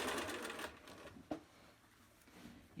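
A sewing machine stitches a cloth face mask seam, back-stitching over elastic: a quiet rapid whir runs briefly at the start, then cuts to near silence with a faint click.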